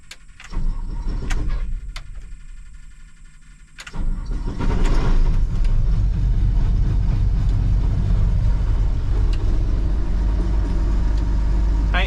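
A farm harvester engine cranks with a few short starter bursts, stalls briefly, then catches and settles into a loud, steady, rumbling idle as it warms up at a soybean harvest.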